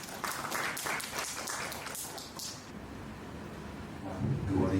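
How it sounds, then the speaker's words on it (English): An audience at an investment and market research session in Lao PDR claps for a speaker, a moderate wave of applause that fades out, followed by faint low background noise. "Please welcome him with a big round of applause."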